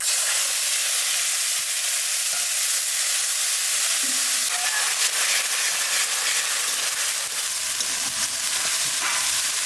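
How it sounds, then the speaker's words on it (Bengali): Onion paste fries in hot oil with cloves, cinnamon, cardamom, bay leaf and dried red chillies, giving a loud, steady, dense sizzle close up that runs without a break, with faint scraping of stirring underneath. "পেঁয়াজ বাটাটা একটু লাল লাল করে ভেজে নিয়েছি।"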